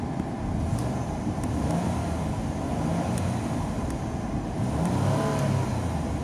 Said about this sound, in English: Let me rev up the engine for you so you can hear it.